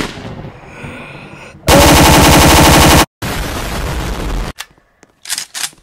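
Gunfire in the Roblox game Area 51: a loud, dense burst of rapid shots for over a second, then a second stretch of quieter sustained firing, followed by a few brief faint pops.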